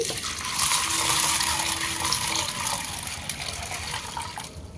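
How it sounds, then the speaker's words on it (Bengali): Water poured into a bowl of soaking chana dal, a continuous close gushing splash that fills and rises in tone, then fades near the end. "এর মধ্যে পরিমাণ মতো জল দিয়ে দিচ্ছি"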